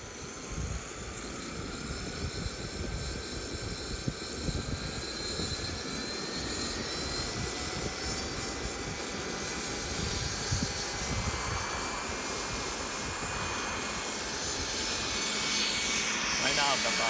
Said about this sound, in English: I'm gonna slowly throttle up just like a gas engine, that is a turbine